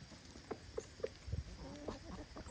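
Faint, scattered clucks from a few chickens, short and irregular, with a low thump in the middle.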